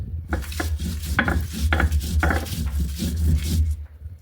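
Dried raw chilies are ground on a stone sil-nora slab in rhythmic scraping strokes, about seven close gritty pushes over a low steady hum.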